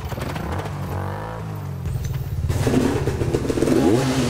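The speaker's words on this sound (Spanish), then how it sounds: "las visitas toman sus motos y las emprenden cerro abajo" Motorcycles ridden off downhill from a remote hillside home, engines clattering and revving close by, rising louder and rougher as they pull away, with gravelly scraping underneath.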